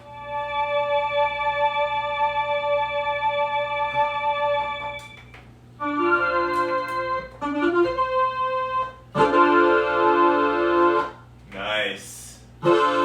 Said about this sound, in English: Ooh, awesome sound effect with the delay.